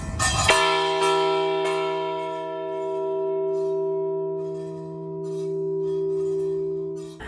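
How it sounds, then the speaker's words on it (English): A large bell rung once outside a historic hotel in Idaho, a loud resonant strike followed by a long, steady humming sustain with slow swells; nobody talks. "Hotel, you can ring this bell."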